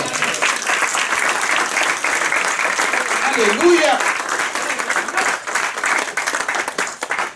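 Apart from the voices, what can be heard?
congregation applause in church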